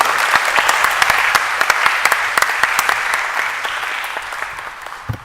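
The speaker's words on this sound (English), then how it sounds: "With a warm applause, Mr. Muhammad Niaz Abbasi, the Lord Mayor of Oxford" Warm audience applause at the opening ceremony of a future leaders conference in Oxford, many hands clapping in a dense wash with a few sharper claps standing out, slowly fading toward the end.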